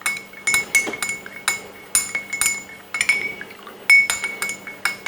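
A spoon clinks rapidly against a glass while stirring clove powder into a homemade energy drink mixture, producing bright, close, repeated metallic taps in uneven bursts with short pauses and no voices.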